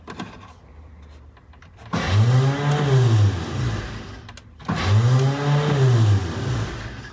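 A 1985 Ford Bronco's starter motor spins without engaging the engine, two separate whirring bursts of a few seconds each that rise and fall in pitch, recorded close and loud with no talking.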